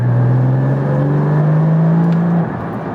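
A Porsche GT4 981 sports car engine drones steadily nearby, its tone rising slightly as it pulls along in cold weather, then easing off near the end; no talking.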